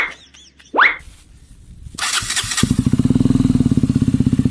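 A repaired motorcycle engine squeals and thumps as it turns over, then catches and settles into a loud, steady, rapid idle putter close by.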